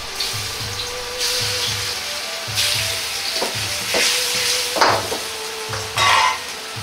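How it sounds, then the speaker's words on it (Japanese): Daikon radish sizzles steadily in a hot wok while a utensil scrapes and stirs, with occasional louder crackles and a soft repeating clatter underneath. "大根を中華鍋で焼いていきます。"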